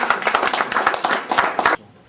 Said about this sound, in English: And so let's give Mark a great round of applause.